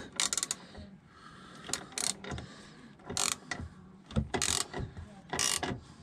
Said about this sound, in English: So I am going to take that bolt back out.